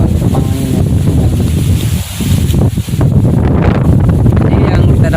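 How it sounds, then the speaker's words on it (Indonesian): Strong wind buffets the microphone outdoors during bird trapping with wooden sticks, a loud, continuous low roar with gusty swells that runs through the whole stretch, with a voice talking underneath. "Karena kalian lihat angin yang kencang"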